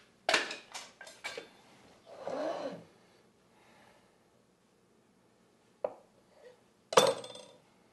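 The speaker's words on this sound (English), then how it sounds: "get all these eggs split in half and get the yolks into the food processor" Sparse kitchen clinks and taps of eggshells, a utensil and a food processor bowl sound close and quiet, as hard-boiled eggs are split and yolks added, with long pauses between the sharp knocks.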